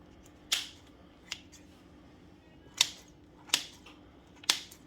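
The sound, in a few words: scissors cutting stale bread pieces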